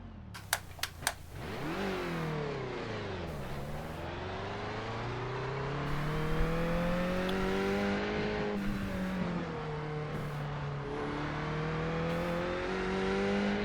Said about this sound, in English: Oh fuck, there are cars coming. There's a train of cars coming.